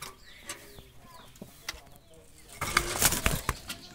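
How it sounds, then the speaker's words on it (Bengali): Jalali pigeons flap their wings in short faint bursts, then in a louder flurry near the end, with soft bird sounds around them. "মাদি কবুতর,"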